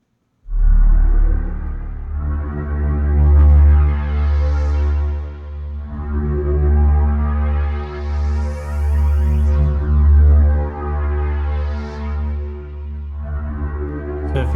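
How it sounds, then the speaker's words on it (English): Waldorf Quantum synthesizer playing long, sustained pad chords through a delay effect, loud and continuous, with swelling, sweeping tones and echoing repeats that blend between notes. "And let's add a delay."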